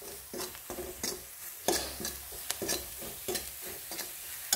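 Spices with red chilli powder, salt and turmeric roasting in a pan, quiet sizzling under repeated sharp scrapes and clinks of a stirring spoon against the metal, close and rhythmic.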